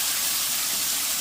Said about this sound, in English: My red onion, my ginger, and my garlic is going in. I'm going to stir it around